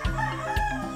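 A rooster crows on a permaculture farm, a short, loud, nasal call with a couple of quick bursts close by, no talking over it.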